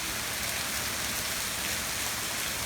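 Hail falls in Fremont, a dense, continuous hiss of countless pellets striking surfaces, steady and fairly loud throughout with no distinct individual impacts or talk.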